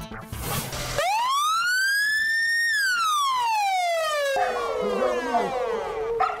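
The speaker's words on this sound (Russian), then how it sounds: "На старых машинах сирена не такая протяжная" Wailing electronic siren of a new ambulance, sweeping up in a long drawn-out rising tone and then sliding slowly down, loud and close, with a brief rougher tone mixing in toward the end.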